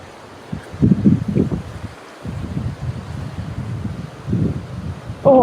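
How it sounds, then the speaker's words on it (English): Gusty wind rumbling against the microphone in uneven bursts, with quieter lulls between stronger blasts. "Bit windy."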